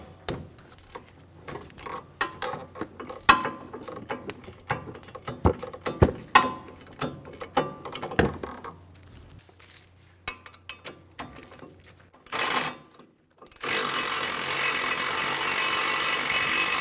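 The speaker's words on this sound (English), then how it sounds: "Using an 18mm socket, remove the caliper bracket bolts." Socket ratchet loosening the caliper bracket bolts on a Chevrolet Sonic during a front brake job, a series of close, sharp clicking ratchet strokes and metallic knocks in irregular rhythm, followed by a louder steady broadband noise at the end.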